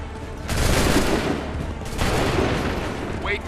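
Musket volleys crack out in Assassin's Creed 3, a dense roar of massed gunfire sustained across the battlefield with a second wave of shots following close behind.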